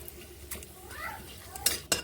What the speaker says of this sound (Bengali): দুটো শুকনো লঙ্কা তেজপাতা এলাচ ও দারচিনি এগুলোকে আমি এইভাবে নেড়ে নিচ্ছি